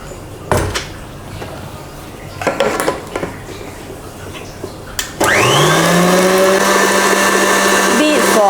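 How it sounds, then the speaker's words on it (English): An electric mixer switches on and whirs steadily with a loud, even motor drone as it beats banana walnut cake batter, after several clinks and knocks of kitchen utensils and bowls. "After beating for 1-2 minutes, stop the mixer."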